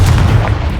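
A single Confringo fire-blast spell erupts in Hogwarts Legacy, a short loud booming burst with heavy low-end rumble, heard alone and close.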